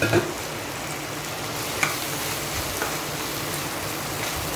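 Ground peanuts and finely ground green chilli being stirred for sabudana khichdi: a steady, soft sizzle-like hiss with faint scraping throughout, no talk.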